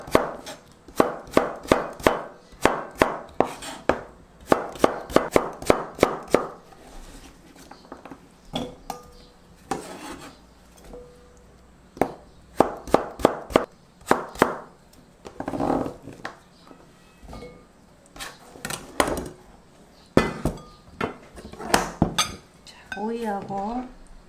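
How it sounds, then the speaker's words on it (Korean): A knife chops cucumber on a cutting board in quick bursts of sharp, close taps, pausing between runs, with a voice speaking briefly at times. "자, 오이를 한번 썰어 볼게요."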